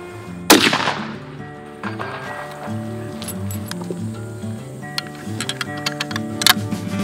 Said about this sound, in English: the first thing to do is to check the rifles are shooting straight